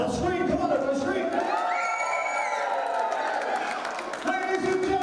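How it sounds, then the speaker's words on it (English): A wedding audience at a mock garter wrestling championship cheers and screams loudly in a sustained burst of whoops and shouts, with an announcer's voice over the crowd. "Now scream, come on, everybody, scream."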